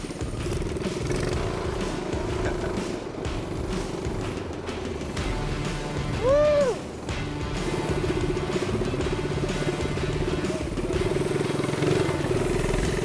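Old-school custom minibike engine running on its first test drive, a continuous buzzing drone with brief revs and a rising and falling whine, moderately close and loud throughout.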